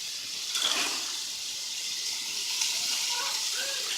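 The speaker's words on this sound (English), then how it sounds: "So the mushrooms are browning, that's going to be really good." Mushrooms and vegetables frying in a pan give a steady, soft sizzle with faint crackles throughout, heard alone at close range.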